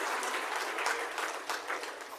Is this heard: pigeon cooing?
no